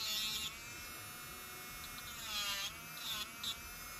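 A Makartt electric nail drill runs on a nail with a thin, steady high-pitched whine, quiet and close, its tone dipping and swelling slightly as it bites in.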